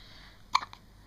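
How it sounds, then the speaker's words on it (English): Baby hiccuping: one short, sharp hiccup and a fainter follow-up heard close by against a quiet room background. "Can you drink with hiccups?"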